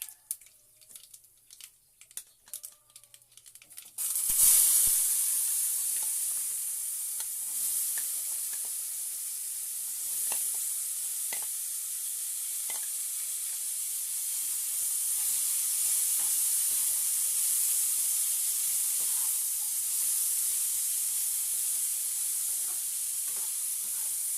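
Boiled potatoes hit a hot pan and start frying with curry leaves, bursting into a loud, steady sizzle after a few seconds of quiet clatter. The hiss holds strong throughout, broken by scrapes and clicks of stirring.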